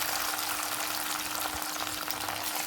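Potato peels frying in hot oil in a wok, giving a steady, dense sizzle throughout with no talking.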